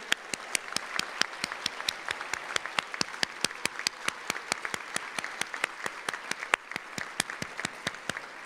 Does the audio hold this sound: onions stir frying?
no